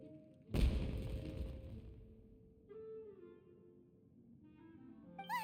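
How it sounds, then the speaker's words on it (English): A fireworks explosion in the video game Genshin Impact lands as one deep, booming thud with a rumbling tail, followed by quieter game tones and effects. "Was that an explosion? It sounded like fireworks."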